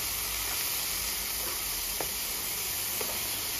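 Chicken and capsicum stirred in a frying pan give off a steady, close sizzle and hiss, with a few soft scrapes of stirring through the middle of the clip.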